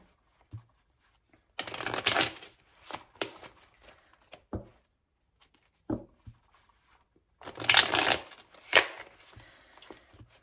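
Tarot cards shuffled by hand in two bursts of riffling and snapping, up close and fairly loud, with scattered taps and card handling between the bursts and no talking.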